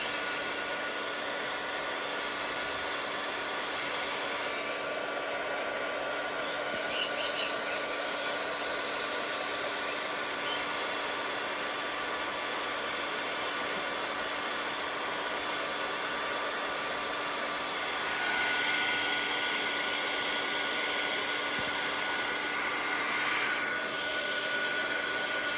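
Hair dryer blows over a shimmer-spray-coated craft project with a loud, steady, continuous whooshing hum, slightly swelling partway through, with no talking.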